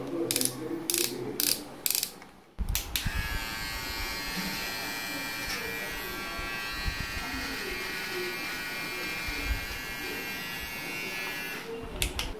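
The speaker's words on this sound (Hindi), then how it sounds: "आप अपने हिसाब से लेंथ सेट करके आपके हिसाब से ट्रिमिंग कर सकते हैं" A Beardo BD-TMET01 beard trimmer buzzes continuously and close up while trimming, a steady high-pitched motor whine after a few short clicks and switch-on bursts at the start.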